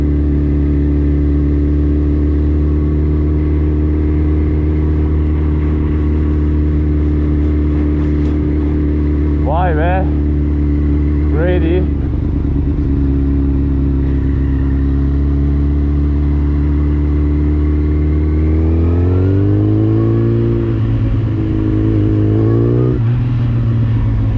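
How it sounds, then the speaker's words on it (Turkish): A motorcycle cruises through a university campus past dormitories and school buildings, its engine droning steadily and close throughout, rising in pitch as it speeds up near the end, with a few brief squeaky sounds in the middle. "motorla geziyorum şu an"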